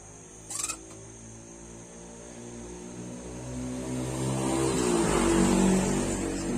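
A motor vehicle passes nearby, its engine noise swelling steadily toward the end as it draws close; a brief click sounds near the start.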